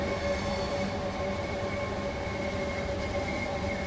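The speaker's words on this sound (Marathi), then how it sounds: "ही आहे ही ट्रेन, ही लेट झाली कुठेतरी" A train in the Train Sim World 3 game on the Dartford to Gillingham line rolls on with a loud, steady rumble and a sustained tonal hum, unbroken for the whole stretch and with no voices.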